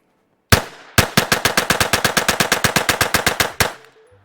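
Rapid fire from a Taurus TX22 .22 pistol: one opening shot, then a fast, even string of about twenty sharp cracks, loud and close, ending abruptly with a short echo.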